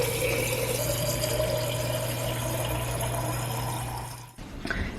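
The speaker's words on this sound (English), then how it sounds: "I'm gonna fill up my water." A kitchen tap runs steadily as a water bottle is filled, a continuous hiss of flowing water with a low pump-like hum that cuts off near the end, followed by a brief clatter.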